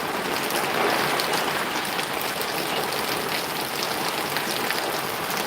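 Steady, dense rain pours down outdoors where a boy is bathing, a loud continuous hiss of drops hitting surfaces with no break and no talking.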